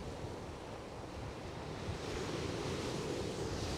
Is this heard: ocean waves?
yes